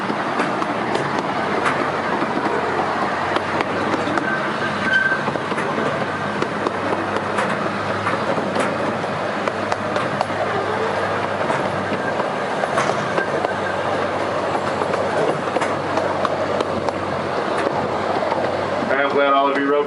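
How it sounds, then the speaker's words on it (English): A small zoo miniature train at Birmingham Zoo rumbles steadily along with rhythmic clacking and rattling, while a voice talks over the continuous ride noise. "I'm glad all of you rode the train today"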